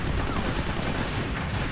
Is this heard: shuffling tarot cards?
no